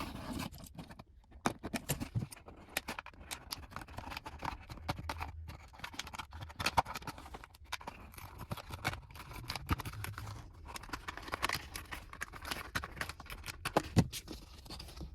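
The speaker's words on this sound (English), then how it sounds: "I'm just going to cut it off right at the bottom." Scissors snip through a plastic container near its bottom, giving a faint, irregular series of small cuts and crackles that continue close by with no voices.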